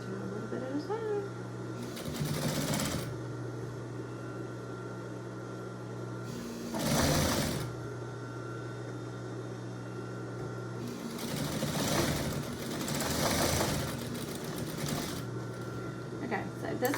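A sewing machine stitching a no-tie man's apron runs in several bursts, a close rapid mechanical whir that starts and stops, with a low steady hum between runs and someone talking over it.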